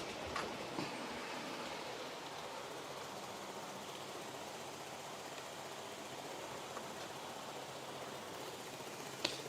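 An older model train locomotive with one driven bogie runs on track, giving a faint, continuous rolling rumble with occasional small clicks, distant and quiet with no talk.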